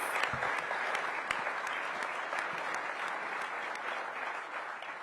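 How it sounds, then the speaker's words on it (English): An audience applauds the commissioner at a press event announcing the Washington Commanders' deal to return to DC, with steady, sustained clapping throughout and a few sharper individual claps standing out. "Give the commissioner a big round of applause"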